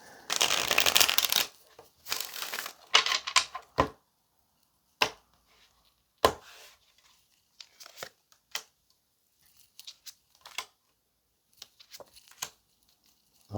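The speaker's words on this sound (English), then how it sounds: "I'm about to shuffle this deck down." Tarot cards riffled and shuffled in several bursts, a long crisp riffle first, then shorter flicks and taps, close up with no talking.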